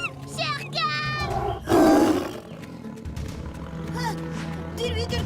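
The tiger Shere Khan from a French-language animated Jungle Book lets out a single loud, close roar mid-scene, rising sharply and fading. Children's and other character voices talk before and after it.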